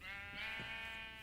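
A single drawn-out sheep bleat from the Minecraft video game, clear and steady with a buzzy tone, heard alone without talk.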